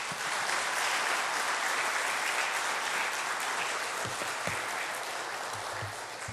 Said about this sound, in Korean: 박수로 환영할 때 목사님 나오셔서 말씀 전해주시도록 하겠습니다